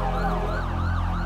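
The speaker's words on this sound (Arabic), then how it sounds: "أصوات سيارات الشرطة بلشت تنسمع بالشارع اللي عم نصور فيه" Wailing police car sirens added as a street sound effect, a loud continuous rising and falling tone that fills the whole moment with no talking.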